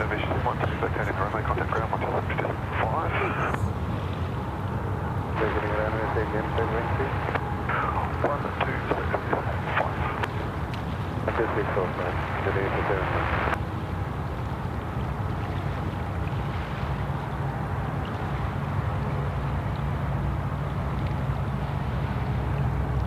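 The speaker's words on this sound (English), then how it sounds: "United Airlines, she's off to Los Angeles with the 787-9." A United Airlines Boeing 787-9 departing Sydney Airport for Los Angeles gives a continuous broad jet roar, distant and steady, while people talk over it for much of the time.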